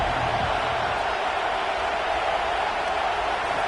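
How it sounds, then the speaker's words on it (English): Roaring stadium crowd at an Auburn versus LSU college football game, a loud, sustained wash of voices and noise echoing through the venue, with no clear peaks. "Listen to this crowd just shaking the girders of this place"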